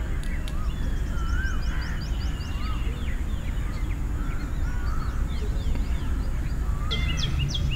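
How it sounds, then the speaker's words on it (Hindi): Distant bird calls over a steady outdoor background, with repeated short whistled and cawing notes scattered throughout, faint to moderate and no talking over them; a koel calls from far off. "ये दूर कोयल की आवाज़,"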